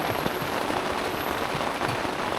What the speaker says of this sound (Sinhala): මේ ටිකක් හයියෙන් වහිනවා.